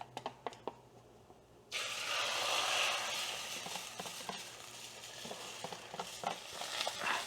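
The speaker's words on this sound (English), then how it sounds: "add the beaten egg to the wok and stir it around until it's almost solid" A beaten egg is stirred around a wok for egg fried rice. Light taps come first, then a sudden loud sizzle that carries on under repeated clinks and scrapes of the utensils, with no talking.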